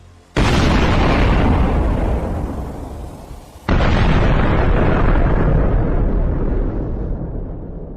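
A Russian ammunition store, set off by fire after a HIMARS strike in a wooded area, explodes in two huge, loud blasts a few seconds apart, each followed by a long roaring rumble.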